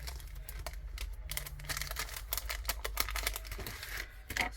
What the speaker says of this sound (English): Sorry about the yucky, horrible opening of paper.